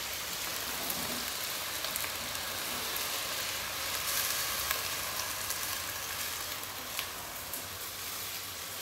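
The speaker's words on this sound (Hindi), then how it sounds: "और इसमें हम हल्का हल्का चम्मच चलाएंगे।" Zarda sweet rice cooking in a pan while a spoon stirs it gently, a steady soft sizzling hiss with faint occasional scrapes and ticks, close and without talk.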